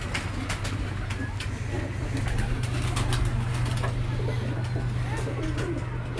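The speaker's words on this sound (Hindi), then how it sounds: "इनके कबूतर आपको दिखा रहे हैं" Pigeons of prized breeds coo in a rooftop loft, soft repeated calls set against a steady low hum and occasional wing flutters, with no voices.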